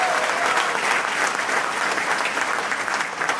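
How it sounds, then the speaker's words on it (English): A room of people clapping at a culinary health center grand opening, a dense sustained round of applause filling the space, loud and even from start to finish. "I think all the members should give yourselves a big, big, big round of applause."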